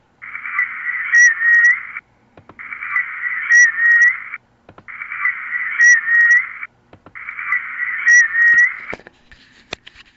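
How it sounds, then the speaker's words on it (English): A recorded whistle said to come from a cryptid: four long, steady high-pitched whistling calls of about two seconds each, repeated at regular intervals and fairly loud, followed by a few faint clicks. "He says it's a whistle that we have here."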